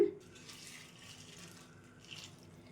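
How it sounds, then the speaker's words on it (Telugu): Water poured into a bowl of puffed rice (maramaralu) until the grains are covered, a soft trickling splash that is fairly faint and close, with a brief stronger spurt near the end. "ఈ ఒక్కప్పు మరమరాలను బౌల్లో వేసేసుకొని ములిగేంత వరకు వాటర్ వేసేసుకుందాం"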